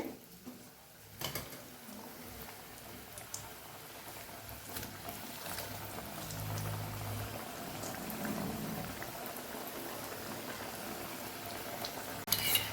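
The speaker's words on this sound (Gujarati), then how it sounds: "આવી જ રીતે બધી ચિપ્સને આપણે તળી લેવાની છે" A steady, bubbling sizzle of potato chips frying in hot oil, continuous and fairly close, with a few stirring clinks near the end.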